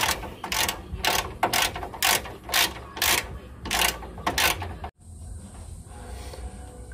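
17mm socket on a ratchet undoing the top shock tower nuts on a Ford Ranger PX, a rapid series of loud, close clicking ratchet strokes in a steady rhythm, then stopping.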